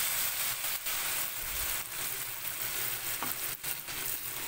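Chicken shashlik sizzles and fries in a pan as soy sauce goes in, a steady, fairly faint crackling hiss broken by a few brief stirring clatters.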